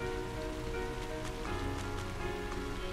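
Steady rain pours in the video game Trails of Cold Steel during a rainy spell in June, a soft, even hiss of drops on surfaces that runs throughout at low volume, with no voices.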